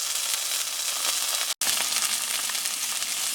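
A mutton burger patty frying in a pan, with loud, steady high sizzling and spitting grease splatter that drops out for a split second midway.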